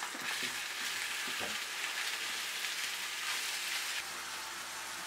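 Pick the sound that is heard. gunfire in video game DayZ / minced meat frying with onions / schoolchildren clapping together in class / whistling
minced meat frying with onions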